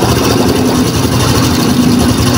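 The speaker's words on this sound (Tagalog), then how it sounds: "May kunting kumakalansing sa ilalim ng makina." A Honda XRM125 motorcycle engine idles steadily at close range, a continuous low drone with a faint metallic rattle from underneath the engine.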